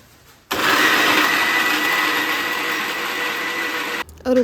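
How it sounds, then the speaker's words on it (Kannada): A mixer grinder whirs loudly and steadily for about three and a half seconds as it grinds garlic, ginger, green chilli, mint and coriander together, starting abruptly and then cutting off. "ಬುಡ್ಸಿರೋ ಬೆಳ್ಳುಳ್ಳಿ, ಶುಂಠಿ, ಹಸಿಮೆಣ್ಸಿಕಾಯಿ ಮತ್ತು ಪುದೀನ ಸೊಪ್ಪು, ಕೊತ್ತಂಬರಿ ಸೊಪ್ಪು ಇಷ್ಟನ್ನು ಒಟ್ಟಿಗೆ ರುಬ್ಕೋತಾ ಇದ್ದಾರೆ."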